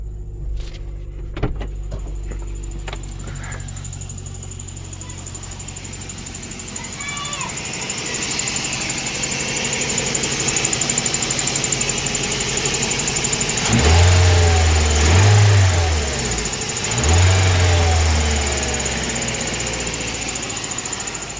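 A first-generation Scion xB engine runs steadily after a rear engine mount replacement, rising in level partway through with a couple of deeper revving surges near the end.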